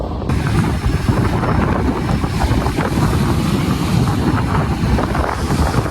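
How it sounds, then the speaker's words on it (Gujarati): Strong wind roars continuously at sea aboard a fishing boat, loud and buffeting against the microphone, with engine rumble beneath and no voices. "પવન પણ ફૂલ છે અત્યારે"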